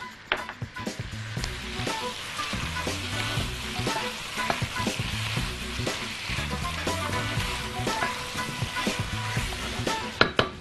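Onions and chicken drumsticks sauté with tomato sauce in a pan, giving a loud, continuous sizzle with repeated stirring scrapes and knocks throughout.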